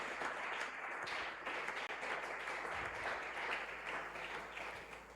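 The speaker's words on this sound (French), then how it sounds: "Acclamons encore pour la gloire de Jésus." A church congregation applauds steadily and loudly for several seconds, a continuous wash of many hands clapping at once with no voices standing out.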